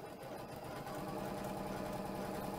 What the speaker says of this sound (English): I'm going to start sewing with my start stop button, and I'm going to start sewing